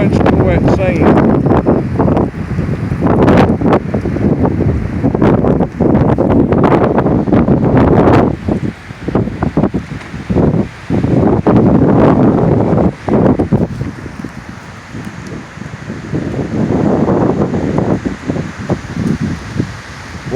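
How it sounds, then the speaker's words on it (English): Strong west wind at 40 to 60 mph buffeting a lakeside campsite on Allatoona Lake, loud gusting roar and heavy microphone rumble in surges with brief lulls, leaves rustling underneath. "West wind's getting bad again. That's right over my campsite there, this wind."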